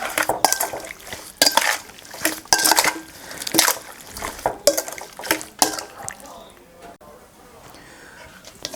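Catfish being mixed with salt and fish sauce in a bowl gives repeated clattering scrapes and wet stirring knocks in bursts, fairly close, with someone talking over it before the sounds thin out at the end.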